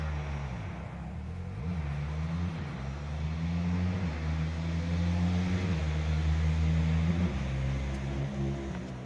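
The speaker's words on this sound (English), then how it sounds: "Making fog over the road. They're just doing burnouts." Car engine revving hard during burnouts on a public road, a steady loud low drone with rising and falling pitch sweeps, continuous throughout without voices.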